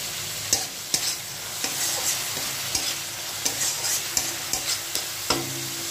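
Raw onion fries over a low flame in a pan of spiced tomato masala for a Bengali ridge gourd and pabda fish curry, a steady sizzle broken by a dozen sharp, irregular scrapes of a spatula stirring nearby.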